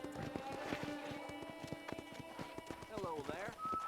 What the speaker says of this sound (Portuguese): esses cavalos estão andando muito devagar